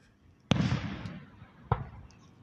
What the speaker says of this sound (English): Okay, guys, back to the fireworks.